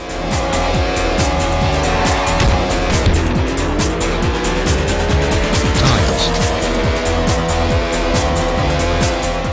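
Arcade race car engines drone and whine steadily in the Retro Racing iPhone game, with pitch sweeping up and down and tires squealing through corners, loud and continuous throughout.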